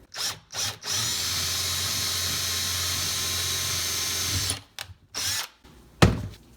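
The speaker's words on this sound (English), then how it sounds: "prior to actually engaging the drill, press in, get that drill bit sunk a slight bit into the wood" A power drill whirs continuously for several seconds drilling into a wooden cabinet door, then stops; a few short bursts and clicks follow, close and fairly loud.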